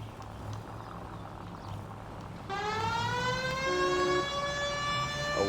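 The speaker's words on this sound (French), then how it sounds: "J'ai la sirène." A police car siren wails in the video game L.A. Noire, a wavering high tone that starts loud and close partway through and holds over a low engine hum.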